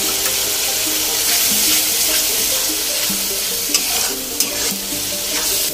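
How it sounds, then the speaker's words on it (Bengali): Tomato paste goes into sizzling masala, a loud, dense, steady hiss close up with a watery bubbling texture and a couple of faint clinks, no speech. "মশলাটা ভালোভাবে কষাতে হবে। দিয়ে দিচ্ছি টমেটোর পেস্ট।"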